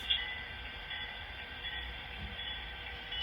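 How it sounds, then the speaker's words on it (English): An HO scale model railroad locomotive runs on a layout, producing a steady, faint mechanical whir and hum with a high whine throughout, no voices. "now I can set up this locomotive and line it up to pick up this train"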